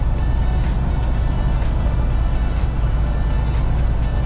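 A school bus with no kids aboard driving past on a road, a steady loud engine and tire rumble heard close by, with no talking.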